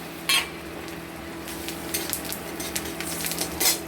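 Whole bay leaf, cardamom, cinnamon, dried red chilli and cumin hit hot oil and butter for a chickpea dal tempering, giving a steady close sizzling hiss broken by occasional louder crackles and light utensil clinks.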